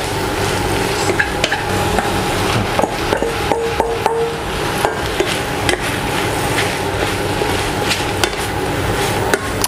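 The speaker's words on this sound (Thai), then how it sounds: "ผมจะผัดให้เส้นเขานุ่มอีกนิดนึงนะครับ" Rice noodles stir-fried with Chinese kale for pad see ew, a loud continuous sizzle close by with repeated sharp scraping and clanking of a spatula against the pan.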